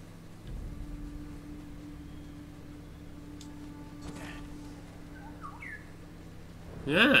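In Ghost of Tsushima, a small guiding bird gives a few brief chirps and whistles in an outdoor game setting, followed by a louder burst of chirping at the end over a steady low background hum.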